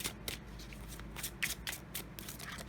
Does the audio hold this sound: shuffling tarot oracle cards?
yes